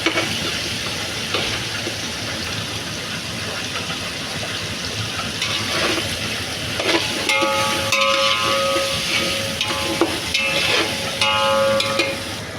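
Beef pieces for pulao are stirred and fried in a pot, giving a steady close sizzle with scraping and clinking strokes, growing busier and brighter in the second half, with no one speaking.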